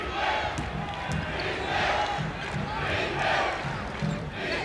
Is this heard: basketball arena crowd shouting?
yes